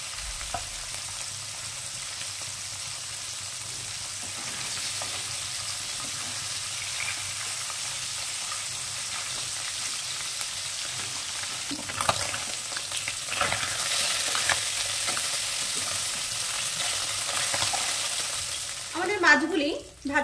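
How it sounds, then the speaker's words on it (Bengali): Tengra fish frying in oil, a steady bubbling sizzle that runs throughout with occasional louder stirring and spatters toward the end, close and moderately loud, without speech. "আমাদের মাছগুলি ভাজা হয়ে গেছে।"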